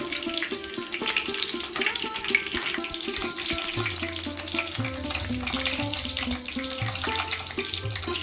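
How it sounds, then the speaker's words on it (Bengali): Brinjal slices frying slowly in oil over a medium flame, a steady, moderately loud bubbling sizzle with a low melodic tone running underneath and no speech. "বেগুনগুলো তেলের উপর সব দেওয়া হয়ে গেছে মিডিয়াম ফ্লেমে এটা এখন আস্তে আস্তে ভাজতে হবে"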